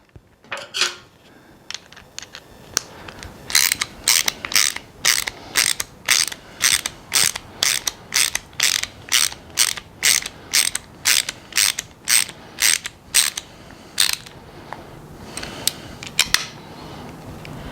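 A socket ratchet clicks in rapid, evenly spaced bursts as it tightens a bolt on a homemade magnetic camera stand, loud and close, pausing briefly between strokes.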